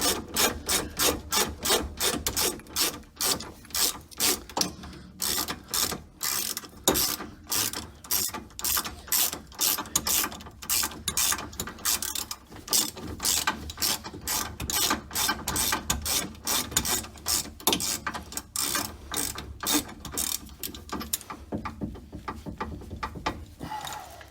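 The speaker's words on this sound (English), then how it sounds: "Let me see if I keep ratcheting." A ratchet wrench turns a trackbar bolt on a Jeep Cherokee during a bushing re-install, giving a long run of rapid, steady metallic clicks with brief pauses, close and alone without talk.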